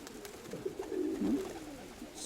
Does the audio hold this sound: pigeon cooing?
yes